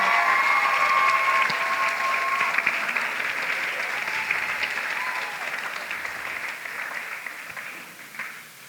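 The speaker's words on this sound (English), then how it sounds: "Another round of applause." Graduation ceremony crowd applauding the head girl and head boy of the class of 2023, a dense, loud, sustained wash of clapping that slowly fades toward the end, with faint voices mixed in.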